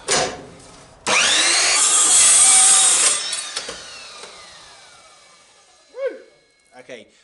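Evolution Rage 4 saw cutting through an unclamped piece of wood, a loud sustained whine and rasp for about two seconds that winds down as the blade spins to a stop, followed by faint clunks and brief speech.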